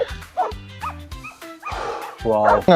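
Several sled dogs on ice yip, whimper and bark excitedly in quick bursts, close by, with a person talking over them.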